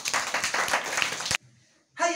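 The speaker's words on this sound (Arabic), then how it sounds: "تصفيق حال الطالب إبراهيم سجان" Children in a classroom applaud a student who has just written a letter. A dense burst of clapping lasts just over a second, then drops to near silence before a voice begins.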